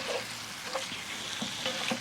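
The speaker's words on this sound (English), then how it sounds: "we're going to start stirring this around now" Rabbit pieces in coconut curry stirred in a pot, a continuous close sizzle with soft scraping strokes of the spoon repeating every half second or so.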